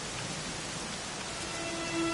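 Rain falls in Dragon Quest XI S, a dense, even hiss of downpour filling the short span, steady and fairly soft with no other sounds standing out.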